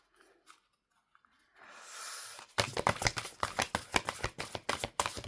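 After a few quiet handling noises and a soft swish, large tarot cards are riffled and slapped together in a rapid, rhythmic flurry of crisp snaps up close.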